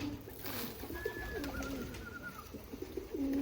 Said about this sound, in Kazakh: Қанша кептер бар шамамен мына жерде?